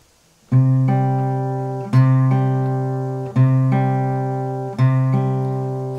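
Guitar Travis picking with the thumb and first finger: four clear plucked notes at an even pace, each ringing with sustained tone before the next, close and loud with no talking.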